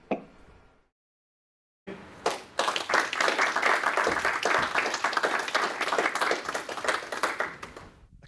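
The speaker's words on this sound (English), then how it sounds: "hopefully you heard the round of applause" An audience bursts into sustained applause at the close of an online talk about research themes for RSE labs: dense, steady clapping that starts abruptly after a short silence, stays loud for several seconds and tapers slightly at the end.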